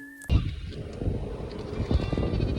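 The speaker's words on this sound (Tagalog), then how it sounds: "dumamon tayo sa kulungan ng mga tupa" Sheep bleating loudly and close in a farm pen, several overlapping calls from the flock over a continuous rustling, busy background with no talking.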